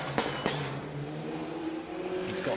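A turbocharged car with a fierce anti-lag system revs hard while spinning donuts at a motorsport festival, its engine droning steadily at a distance with sharp pops and bangs cutting through.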